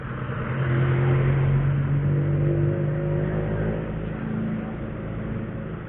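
A racing-type Mitsubishi Lancer drives past on a road, with a steady loud engine drone and whirring tone that swells and then slowly fades.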